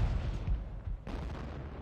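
Tank gunfire in the video game Operation Flashpoint during a multiplayer match: a couple of deep, muffled booming shots with rumbling low-end decay, moderately loud, no voices.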